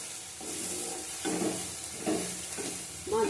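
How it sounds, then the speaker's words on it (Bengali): Chopped onion frying in a pan for a rohu fish curry, with a steady close sizzle and a few louder bursts as it is stirred, no voices. "পেঁয়াজটা ভেজে নেবো।"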